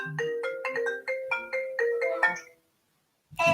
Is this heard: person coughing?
no